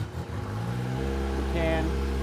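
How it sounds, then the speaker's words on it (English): A 2021 Kawasaki ZX-10R sport motorcycle engine cranks and catches, then settles into a steady, close low idle, with voices talking at the start. "we should be able to start the bike with the clutch in"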